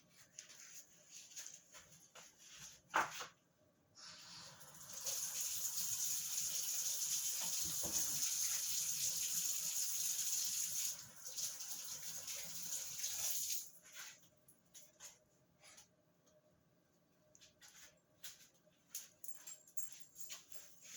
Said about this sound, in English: Okay, now I'm going to wash my hands.